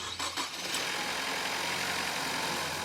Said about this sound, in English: Now we can let the engine run for about 45 seconds